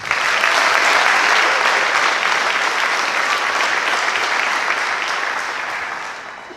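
Steady, dense applause from a large audience at a senior awards ceremony for the class of 2026, loud and sustained throughout before tapering slightly at the end.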